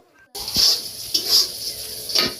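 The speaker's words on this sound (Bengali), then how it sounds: "দিয়ে সব কিছু ভেজে নিচ্ছি" Spices sizzle in a hot pan for duck curry while a utensil scrapes and stirs them three times in an unhurried rhythm, close and fairly loud.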